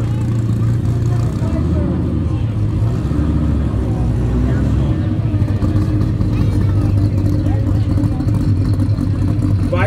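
At an outdoor car show, a loud car engine built for racing rumbles steadily up close, a deep continuous idle that holds without pause while voices murmur faintly around it.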